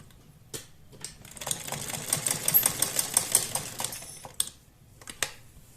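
A sewing machine stitches kurti fabric: a few separate taps lead into a continuous run of rapid needle clatter lasting a couple of seconds, then a couple of final short bursts, heard close up and alone.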